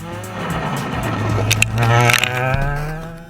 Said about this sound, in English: guide the diminutive two-wheel drive Fiesta through the stage with amazing speed